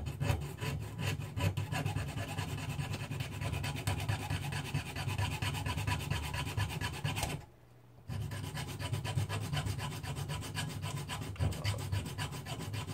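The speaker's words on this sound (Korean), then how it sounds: "일단 쇠줄로 가는 거는 그렇게 어렵지가 않네요" Rapid back-and-forth rasping of a steel file on the metal of a windshield wiper, a steady scraping rhythm that pauses briefly once before resuming, close and alone.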